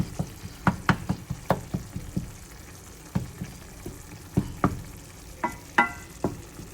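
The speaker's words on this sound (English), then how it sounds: "So I just work this through. A wooden spoon works great for this." A wooden spoon stirs and breaks up ground beef frying in a pan for meat sauce, with irregular knocks and scrapes against the pan over a soft, continuous sizzle.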